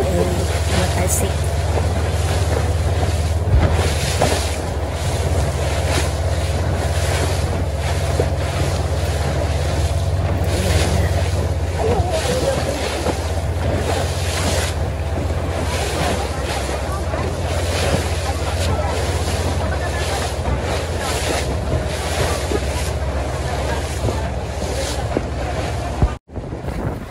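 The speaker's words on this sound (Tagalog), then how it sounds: "Bilis ng takbo ng boat," A fast boat speeds over choppy sea near Macau, its engine droning loud and constant with rushing water and heavy wind buffeting close throughout, while a voice speaks over the roar.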